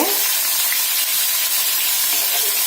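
Poultry chicken pieces fry in a pan of hot oil, giving a loud, steady, dense sizzle that holds evenly throughout with no talking.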